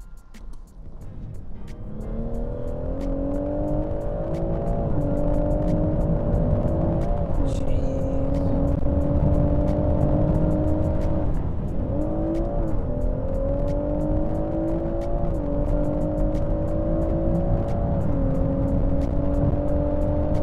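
A stage 2 tuned BMW M140i engine revs and accelerates hard, its tone climbing in repeated pulls with brief dips at gear changes, loud and close for the whole stretch.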